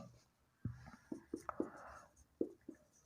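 Chalk or marker strokes on a board during a chemistry lesson, sounding as a handful of short, separate taps and scrapes spread across a few seconds in a quiet room, with no talk over them.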